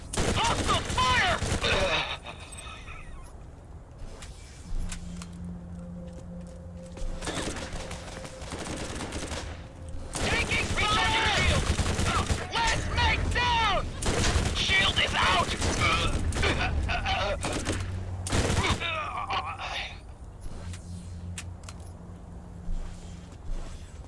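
Gunfire in the video game Borderlands, dense crackling volleys and rapid bursts mixed with explosions and game effects, loud and repeated through most of the stretch, with brief quieter lulls.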